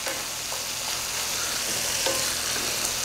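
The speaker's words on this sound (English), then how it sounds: "I do want to periodically stir our onions" Onions frying in a soup pot for vegan lentil soup, a dense, steady close sizzle with a few soft scrapes and taps of a spoon stirring through them.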